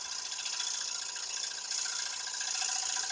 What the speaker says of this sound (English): So that's a little 3/8 inch bowl gouge. Just starting to do a couple of cuts on the outside.